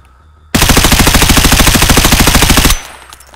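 Automatic M4 rifle fire in the video game Escape From Tarkov, one loud, close burst of rapid, evenly spaced shots lasting about two seconds, then abrupt silence.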